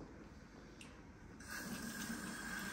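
Tap water runs steadily, growing louder and fuller partway through as the flow hits hair being rinsed in a basin, a continuous close splashing gush.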